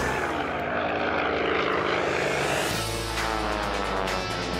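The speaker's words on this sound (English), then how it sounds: "The Yak 18T's 360 horsepower radial engine can propel the aircraft to speeds of over 180 miles per hour." A Yak-18T with a 360-horsepower radial engine flies at an air show, its loud, steady engine drone filling the whole clip and shifting in tone partway through as it passes.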